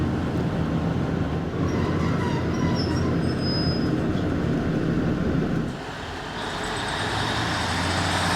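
A passenger train running on the line from Worksop toward Brigg in North Lincolnshire, with a steady rolling rumble of wheels and carriage noise from inside, faint squeals, and a dip in level partway through.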